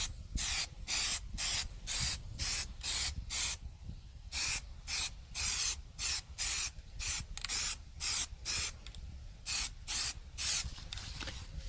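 Short on-off bursts of spray paint from an aerosol can coat a wheel rim during a DIY rust and paint repair, a steady series of close, loud hissing puffs separated by brief pauses.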